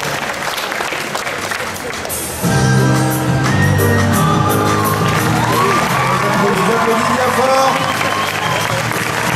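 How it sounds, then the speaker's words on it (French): Audience at a cosplay show bursts into loud applause and cheering with scattered whoops and children's shouts, sustained after a short spoken introduction. "On applaudit bien fort."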